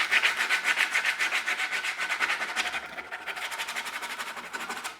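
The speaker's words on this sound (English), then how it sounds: "just sanding all of that rough stuff off" Rapid, rhythmic back-and-forth scraping of coarse sandpaper by hand, loud and close, with a brief pause before the strokes resume slightly softer.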